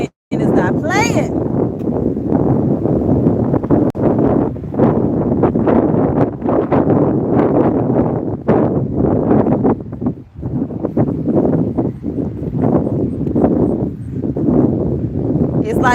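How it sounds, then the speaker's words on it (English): Strong wind blows outdoors during a morning walk near a parking lot, a loud continuous roar buffeting the microphone throughout, with a person talking over it. "this wind is not playing"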